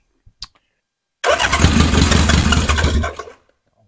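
A 1977 Honda CB750 chopper engine cranks and fires without choke, bursting into a loud, close, throbbing run for about two seconds before cutting out, after a couple of faint clicks.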